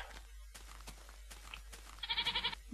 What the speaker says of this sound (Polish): Koza.